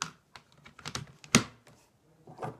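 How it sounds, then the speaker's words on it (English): Several light plastic clicks and taps, irregular and close, with a sharper knock in the middle, as pens are dropped back into a holder. "Just put these pens back in."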